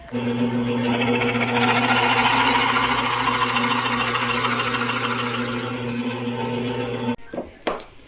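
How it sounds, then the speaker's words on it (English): A steady, loud drill whine with a constant pitch runs for about seven seconds as a Forstner bit bores into salvaged teak, then cuts off, followed by a few brief clunks. "I just need to drill it deep enough to put a plug"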